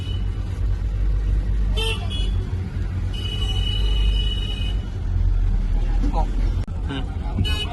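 A car horn honks in heavy city traffic, with a few short toots and one longer sustained blast over a constant engine rumble, while someone talks throughout.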